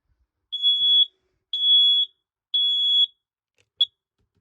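A household smoke alarm being tested shrills in three evenly spaced half-second high-pitched beeps, followed by a brief fourth chirp, loud and clear with nothing else around it.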